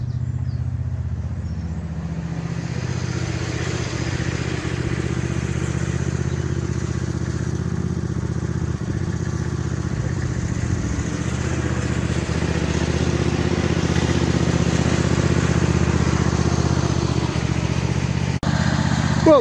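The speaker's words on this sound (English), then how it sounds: "Well, that's the red tractor out." A small red tractor engine runs steadily outdoors, a low continuous idle chugging throughout with no pauses, fairly close and moderately loud.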